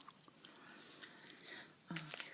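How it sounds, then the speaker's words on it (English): Gum is chewed softly and close up in a quiet ASMR setting, giving moist, faint smacking and squishing sounds, with a brief whispered voice near the end. "Here's the gum I'm chewing"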